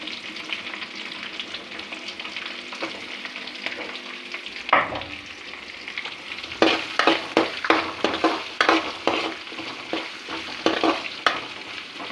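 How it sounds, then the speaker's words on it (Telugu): Chopped onions and green chillies fry in a pan with a steady sizzle, and a sharp knock is followed by a run of rhythmic stirring scrapes and clatters, close and loud. "ఉల్లిపాయలు వేగే వరకు చూసి ఆ తర్వాత మనం ఆరకాకరకాయ ముక్కలు వేసుకుందాం."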